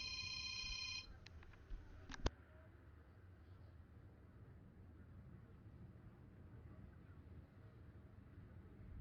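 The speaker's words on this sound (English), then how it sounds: "Phone rings in the middle of the show." A telephone rings once, a short electronic bell burst near the start of the clip that cuts off, leaving quiet low background noise.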